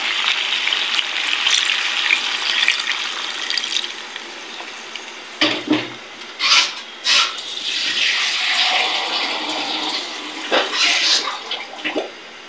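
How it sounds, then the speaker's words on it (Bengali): Broth poured into a chicken and potato curry, a steady watery rush and splash close by, followed by a few bursts of clattering and bubbling as the pour ends. "এখন ঝোল দিয়ে দেবো পরিমাণ মতো"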